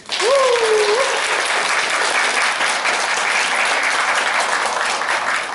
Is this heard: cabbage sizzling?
no